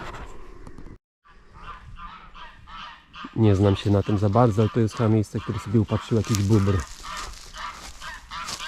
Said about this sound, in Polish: A tam jest małżeńska kłótnia między jakimiś ptakami.